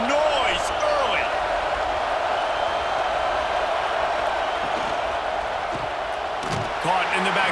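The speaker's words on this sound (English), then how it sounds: "This crowd bringing the energy and noise early." Dense crowd roar fills a college football stadium at a Florida Gators versus Florida State Seminoles game, loud and steady throughout with scattered cheers rising above the din.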